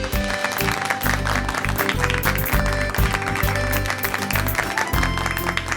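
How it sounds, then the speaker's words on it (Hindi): Loud, dense applause from an audience after a couple's stage performance on a TV show, continuous clapping filling the space throughout with music underneath. "जोरदार तालियां।"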